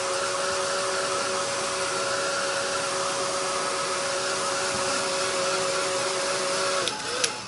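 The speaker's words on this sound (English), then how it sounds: "I better dry this up real quick." A hair dryer blows steadily and loudly to dry freshly glued-down paint for a craft jar, a constant whirring drone that clicks off near the end.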